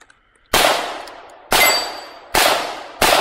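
Four loud Glock 19 pistol shots ring out outdoors at an uneven pace, each sharp crack followed by a long metallic ring from a struck steel target that decays before the next shot.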